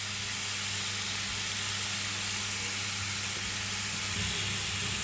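Chopped banana stem pieces and chana dal sizzle and hiss in a hot pan as a steady, close frying sound with a low hum under it throughout.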